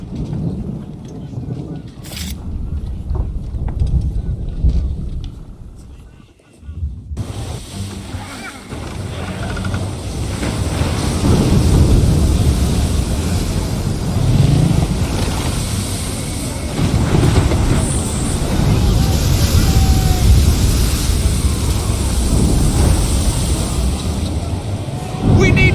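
A stormy sea in the Assassin's Creed III remastered game, with a dense, continuous roar of wind, rain and rumbling thunder swelling louder partway through, with voices talking over it.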